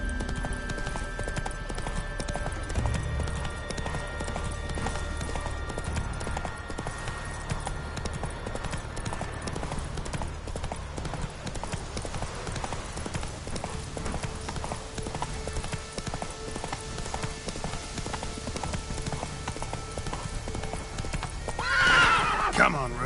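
Roach, a horse in the video game The Witcher 3, gallops with rhythmic clip-clopping hooves under a constant backdrop, then lets out a clear neigh near the end.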